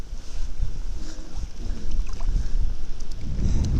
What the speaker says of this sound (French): Oh, le vent qu'il y a, c'est ouf.